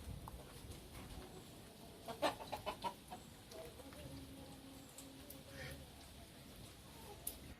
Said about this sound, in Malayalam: കറുത്ത കോഴി അടയിരുന്നതാ